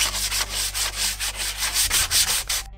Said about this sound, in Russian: Сверху зашкурил все это наждачкой